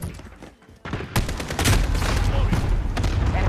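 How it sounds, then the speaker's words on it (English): Video game combat brings a cluster strike: after a short lull, a dense, loud barrage of overlapping gunfire and explosive booms rolls on continuously, with a game voice calling out over the din. "Enemy cluster strike."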